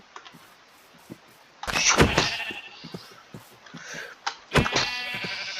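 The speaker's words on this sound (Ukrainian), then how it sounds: "Баран, баран, баран!" Sheep bleating in the Minecraft video game, a few short bleats over game sounds and clicks, close and fairly loud, with no speech.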